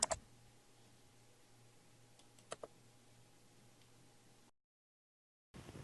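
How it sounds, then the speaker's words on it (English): Computer mouse clicks during a right-click and save-image action, a quick pair of faint, sharp clicks over low steady room hum, followed by a brief silent gap. "I'm going to right click and save image as"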